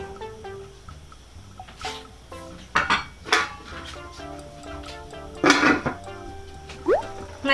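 Metal clatter as a lid goes onto a cooking pot of fish broth, several close clinks and rattles at irregular intervals over a quiet kitchen background.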